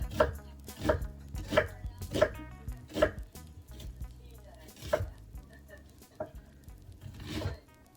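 A knife slices ingredients on a cutting board in steady, close, crisp strokes, about one every second, with a few softer cuts near the end.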